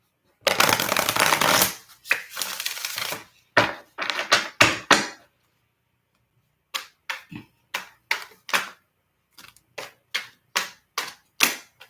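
Tarot cards shuffled at close range in a quiet room: a long riffling burst, several shorter riffles, then a run of sharp, separate snaps and taps as single cards are drawn and placed.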